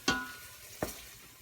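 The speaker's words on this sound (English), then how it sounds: "work some flour in with this" Flour being stirred into hot oil in a pan to start a gravy roux for beef tips: two brief scraping sizzles about three-quarters of a second apart, close and short.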